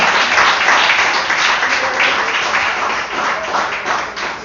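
A church congregation claps its hands in praise, a dense, loud and continuous wash of applause that holds steady for several seconds without speech.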